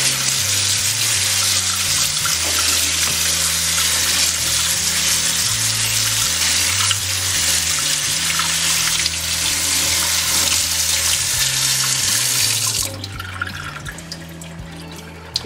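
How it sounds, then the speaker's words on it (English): Running tap water splashes steadily into a sink over cooked cactus paddles, loud and continuous, then cuts off near the end leaving a quieter trickle. "water and rinse them."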